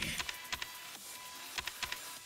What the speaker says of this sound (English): I just realized I might be hitting my keyboard really loudly.